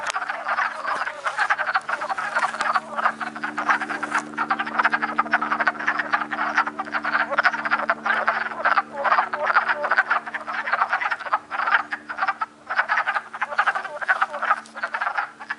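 Wood frogs call during breeding in a continuous chorus of rapid, duck-like clucking croaks, dense and fairly close, with a low steady hum beneath and no voices.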